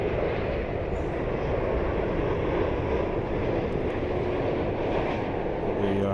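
An American Airlines Boeing 787 with GEnx engines lands at London Heathrow, its engines giving off a steady, continuous roar from some distance.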